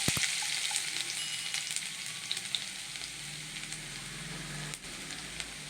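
A soft, continuous sizzle of chopped garlic frying in oil, with light crackles and an occasional tap, steady and close.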